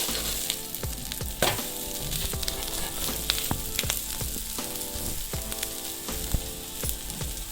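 Omelet roll pieces pan-roast in a hot pan, sizzling loudly and continuously while repeated crisp crackles and spatula taps punctuate the frying, heard close with no talking.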